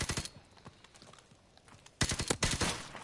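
Sniper rifle gunfire in Call of Duty: Modern Warfare Remastered: a quick cluster of sharp, close shots opens, then after a quiet lull a louder, denser volley of cracking reports.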